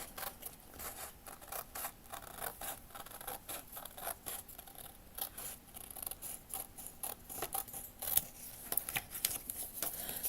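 Scissors snip through wallpaper to cut out a corner piece for a room box, giving a steady run of close, crisp cutting clicks with no talking.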